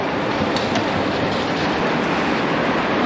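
Subway train moving through an underground station in Istanbul, a steady loud rumble with faint clickety-clack of wheels throughout, no talking.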